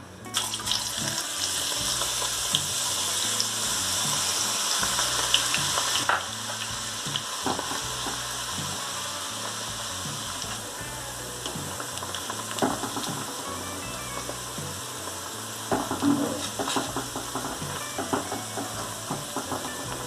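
Chopped onion fries in a pan with a steady, busy sizzle, while occasional stirring clinks and scrapes break in close by; no one speaks.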